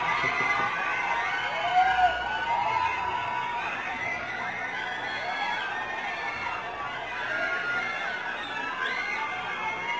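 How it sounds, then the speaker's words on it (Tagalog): A crowd of fans screaming and cheering inside a cinema for the KathDen stars Alden Richards and Kathryn Bernardo, a dense, steady roar of high excited voices with shrill shouts that holds for the whole stretch. "Grabe oh, sigawan sa sinihan."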